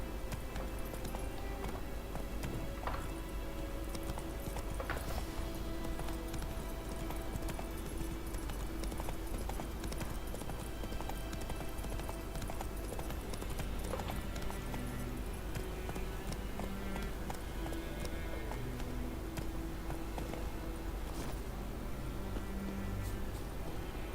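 A horse gallops in The Witcher 3, steady rapid hoofbeats under a constant rumble of game ambience and background music, with no voices.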